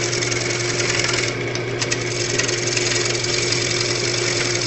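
A gouge cuts wood shavings from a log bowl spinning on a lathe, a loud, steady mechanical hum and rasp that continues unbroken throughout without speech.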